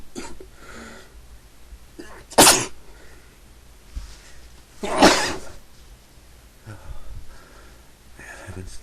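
Two sharp, loud sneezes from one person about two and a half seconds apart, with sniffles and quiet breathing between them.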